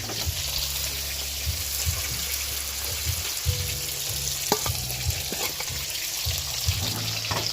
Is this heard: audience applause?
no